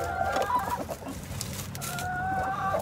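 A brooding hen clucking close by, soft repeated clucks and a drawn-out warbling call, fairly quiet and with no talking.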